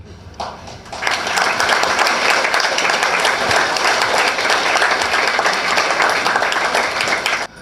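An audience at a get-together bursts into loud, sustained applause that swells after a second and continues densely for about six seconds before stopping abruptly.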